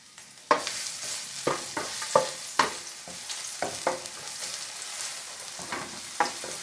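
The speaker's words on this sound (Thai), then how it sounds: "เราก็เจียวกระเทียมให้หอมก่อนคุณผู้ชม" Garlic frying in a wok for stir-fried morning glory, a close crackling sizzle punctuated by repeated sharp spatula scrapes and clacks at an uneven rhythm.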